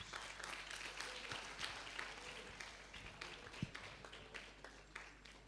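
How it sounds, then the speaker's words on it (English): Seminar audience applauding after a presentation at an international seminar on religious pluralism, steady moderate clapping heard from a distance in a hall, with a low hum underneath. "Please give him a warm applause."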